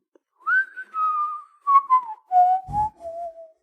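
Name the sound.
whistling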